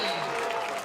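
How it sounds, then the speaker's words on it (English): UCLA Bruins baseball fans cheering and clapping in the stadium, a brief burst of crowd noise, steady and fairly loud. "Bruins faithful, they're upstanding, cheering on their team"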